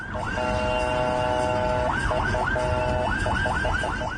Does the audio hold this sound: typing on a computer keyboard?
no